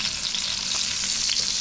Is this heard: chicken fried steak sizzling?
yes